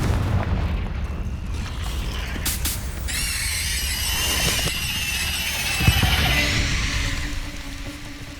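A Confringo fire-blast spell in Hogwarts Legacy on PS5 Pro, booming explosive bursts and rushing magical whooshes with rising and falling tones over continuous game rumble, no speech.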